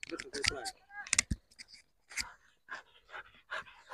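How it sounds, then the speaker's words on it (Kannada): An aggressive white dog pants in quick, breathy bursts close by, with a person talking over and between the breaths. "ವೈಟ್ ನಾಯಿ ಅಂತೂ ಫುಲ್ ಅಗ್ರೆಸಿವ್ ಐತ್ರಿ ಅದ"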